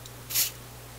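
A short, sharp hiss of spray from a can of contact cleaner, lasting a fraction of a second over a steady low electrical hum, while working on an AF-610 Japanese AM/FM tube radio.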